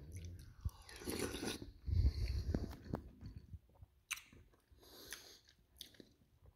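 Close, wet chewing and biting while eating cabbage vegetable soup with smoked sausage and ground beef, with soft crunches and mouth sounds in irregular bites and no talk.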